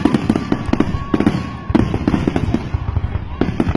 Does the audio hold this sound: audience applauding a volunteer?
no